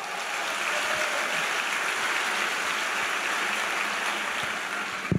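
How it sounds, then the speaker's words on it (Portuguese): Church congregation applauding during a sermon, a steady, dense wash of clapping that holds evenly for about five seconds at moderate distance. "Pode aplaudir o Senhor."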